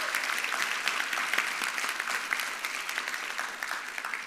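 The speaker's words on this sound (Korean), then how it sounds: "뜨거운 박수로 환영해 주시기 바랍니다." A church congregation claps warmly in welcome during a Sunday service, steady dense applause filling the room at moderate level, with no voices above it.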